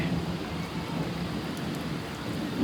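Heavy rain pours during a windy thunderstorm with thunder rumbling low beneath it, a dense, continuous roar with no talking.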